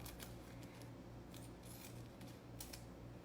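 Scissors snipping up the middle of a plastic bag, a run of short crisp cuts heard close and fairly quiet over a steady low hum.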